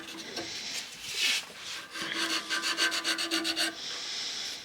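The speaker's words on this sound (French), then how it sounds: "je prends une lime à ongles, hein. C'est pas mal non plus pour fignoler." A nail file rasps against a turned wooden spiral candlestick, with short scraping strokes and then a quick run of rhythmic back-and-forth filing, close and fairly quiet.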